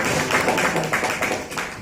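An audience at a wellness meeting claps in honour of an absent teacher, a dense, fairly loud burst of many hands that keeps going without a break.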